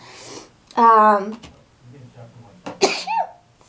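A sharp sneeze bursts out partway through, amid brief vocal sounds before and a short exclamation right after, close to the listener.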